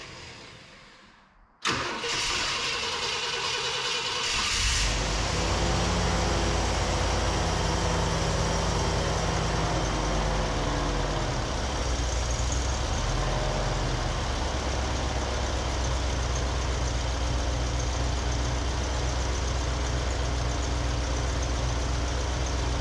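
A carburetor-swapped car with an aftermarket throttle-body fuel injection system cranks briefly, fires up, and settles into a steady, loud idle with a slight lumpy pulse that holds for the rest of the clip.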